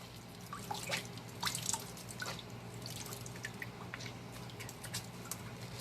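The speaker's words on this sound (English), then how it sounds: "sit this one up like this so the water can run down" Water drips and trickles out of a wet Air Jordan 10 sneaker during a cleaning, soft scattered drips and small splashes, close but faint, with no talk.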